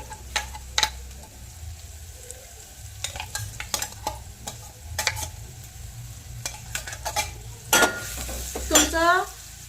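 Chili paste fries in a pan for a village-style gargatta dish, giving a low sizzle under repeated sharp spoon scrapes and taps as it is stirred, fairly close and with no talking.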